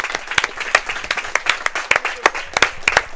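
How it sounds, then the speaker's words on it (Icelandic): A small crowd at a youth handball final claps together, a loose burst of applause with distinct sharp hand claps standing out over a few seconds. "gefum gott klapp."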